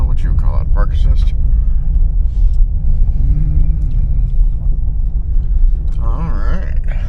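A 2004 Lexus LS430 engine idles at a salvage yard, a loud, steady, low rumble that holds throughout while someone talks over it.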